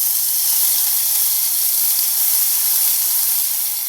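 Red chili kharda sautéing with vegetables in a pan gives off a steady, close, bright sizzling hiss that holds evenly throughout with no voices.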